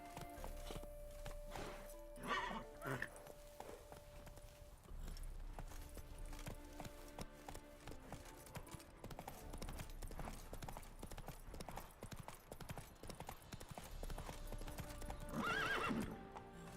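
Horse hooves clip-clop steadily on the ground in The Witcher 3 with a whinny near the end, the trotting mount close and continuous at moderate level.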